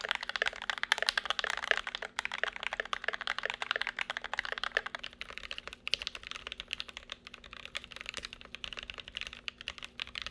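Rapid, continuous clacking of a GMMK Pro mechanical keyboard, keys pressed fast and close up in a dense, uneven rhythm with no voices.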